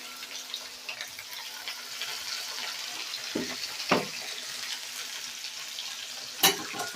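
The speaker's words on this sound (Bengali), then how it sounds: "পেঁয়াজগুলো তেলের মধ্যে দিয়ে দিলাম" Chopped onions fry in hot oil for a chicken kosha with a faint, continuous sizzle, broken by a few louder scrapes and clatters of stirring.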